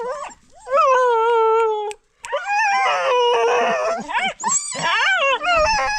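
A dog howls and whimpers in long, wavering, high-pitched cries broken by short yips and pauses, close and loud, with no other voices over it.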